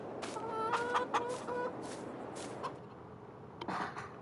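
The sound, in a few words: chickens clucking in a video game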